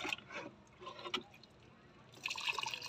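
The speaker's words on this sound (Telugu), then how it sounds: "ఇప్పుడు కాఫీ వాటర్ వేస్తున్నాను కొన్ని." Coffee water is poured onto freshly planted potted plants, making soft, faint trickles and splashes in short bursts with quiet pauses between them.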